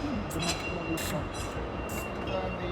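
Rail noise from the front portion of a derailed train moving forward toward a signal: a steady low rumble with faint repeated metallic squeals and clicks, heard up close and continuous.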